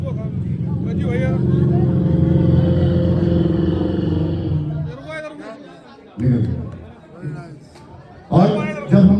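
A voice imitates a sputtering generator engine that leaks oil, making a sustained rumbling drone that breaks into jerky bursts before cutting out, loud and close.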